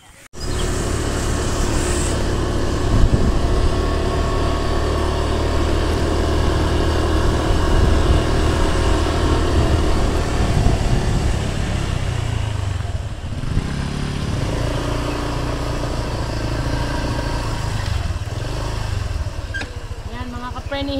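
A motorcycle engine runs steadily and close by for the whole stretch during a family ride, a constant mid-pitched drone that barely changes in loudness.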